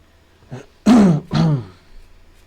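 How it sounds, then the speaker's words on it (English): A person clears their throat twice in quick succession, with a soft cough just before, close and fairly loud. "Apologies if I'm coughing a lot."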